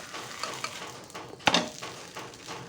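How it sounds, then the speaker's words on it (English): A ragi dosa sizzles softly on a hot pan, with one sharp scrape and clatter of the turner as it is flipped midway, then a quieter hiss settling back. "Now it has cooked in one side. Now flip it and cook the other side."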